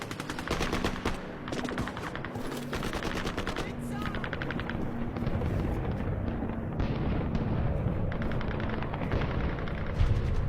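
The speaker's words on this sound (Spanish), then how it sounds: "A los franceses los reciben los disparos del Viet Minh." Heavy gunfire from Viet Minh forces shooting at French troops in November 1953, with dense overlapping bursts of automatic fire and scattered shots and blasts going on without a break, loud and chaotic throughout.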